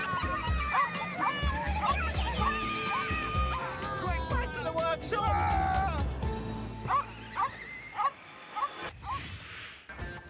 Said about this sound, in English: there's a dog behind us!